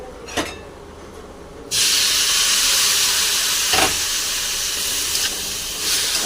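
Semolina and vegetables frying in a pan give off a sudden loud steam hiss when water is splashed on, then keep hissing steadily with a few brief spatters.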